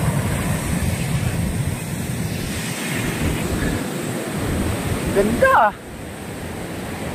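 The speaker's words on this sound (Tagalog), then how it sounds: "Ba, lalaki ng alon." Big ocean waves breaking on a beach at La Union, heard as a steady, loud roar of surf with wind buffeting the microphone, while someone speaks briefly over it near the end.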